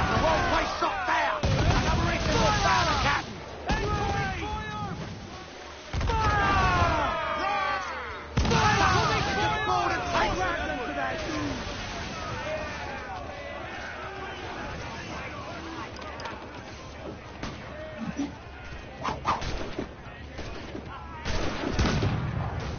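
Heavy ship cannon fire in the pirate video game Assassin's Creed Black Flag, several loud booming volleys and gunfire bursts with shouting crew voices throughout.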